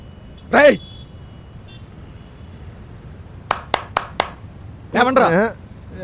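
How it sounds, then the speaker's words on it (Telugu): Four quick, sharp hand claps ring out in a row, close and distinct, between short bursts of people talking. "ఎవడరా పొద్దున్నే క్లాప్స్ కొడుతున్నాడు?"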